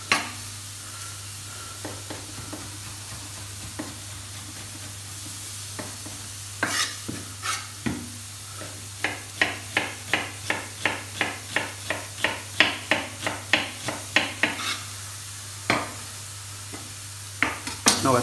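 Meat stirred and turned in a hot frying pan for homemade tacos, a steady sizzle beneath a run of scraping, clattering utensil strokes that come in quick repeated bursts, close and fairly loud.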